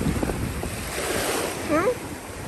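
Waves wash onto a beach in a continuous rushing surge, with wind buffeting the microphone throughout and a brief faint tonal cry near the end.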